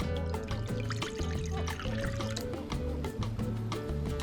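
Water poured into flour for pizza dough makes a close, gurgling liquid splash that runs steadily with no talking.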